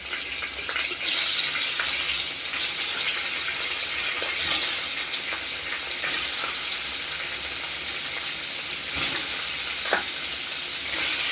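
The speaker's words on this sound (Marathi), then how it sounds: "तेल गरम झालं की आपण पनीर हलकंसं परतून घेणार" Paneer fries lightly in hot oil over a low flame, giving a steady, close sizzle with occasional stirring scrapes and a few sharper pops.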